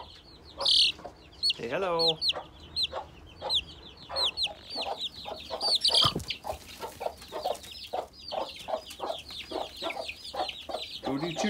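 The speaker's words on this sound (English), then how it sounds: "pretty excited to have these little chicks of our own." Young chicks and chickens cluck and peep in a rapid, busy chorus on a farm, with a sharp chirp and a brief thump partway through, while a person speaks briefly nearby.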